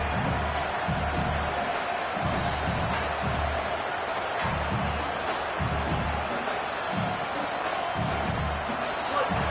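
A football stadium crowd roars as a steady, dense wash of noise throughout, with faint commentary voices underneath.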